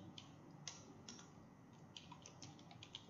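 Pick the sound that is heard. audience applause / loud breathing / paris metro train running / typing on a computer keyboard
typing on a computer keyboard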